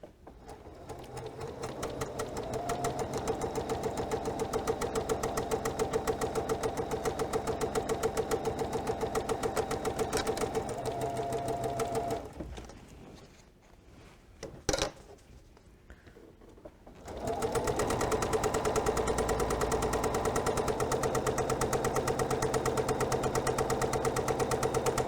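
A sewing machine stitches quilt squares in a steady, fast mechanical whir for about twelve seconds, pauses briefly with a click as the fabric is turned, then runs again at full pace.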